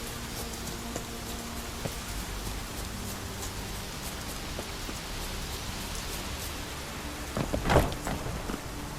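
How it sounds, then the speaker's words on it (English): Steady rainfall in The Witcher 3, a soft continuous hiss throughout with a brief louder burst near the end, quiet and even. "Looks like rain."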